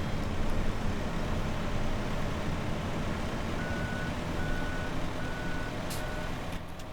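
Regular, faint reversing beeps from a vehicle in the farming game Farming Simulator 17, sounding at an even pace over a steady low engine rumble.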